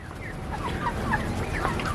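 Desi chickens on a low-cost grass-and-straw poultry farm keeping up a busy chorus of clucks and gobbling calls over steady background noise, with no voices over them.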